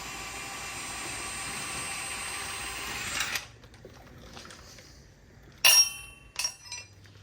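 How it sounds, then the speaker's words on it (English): Ratchet work on the 21 mm lower shock bolt of a 2007-2020 Suburban: a steady whirring hiss runs for about three seconds and cuts off, then sharp metallic clicks and clinks follow, fairly close. "I'm gonna disconnect your lower shock bolt. 21 millimeters, what this one is."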